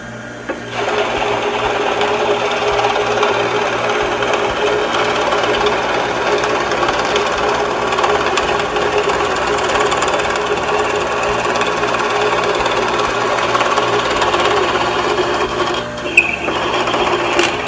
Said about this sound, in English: we're going to drill these holes.